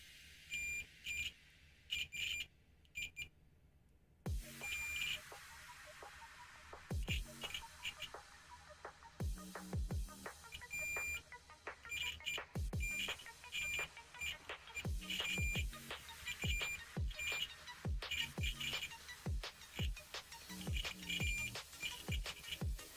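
Repeated electronic beeps and shrill screeching from a continuity check while building a DIY Arduino speaker, sharp tones recurring steadily with crackly clicks over many seconds, close and fairly loud, with no talking.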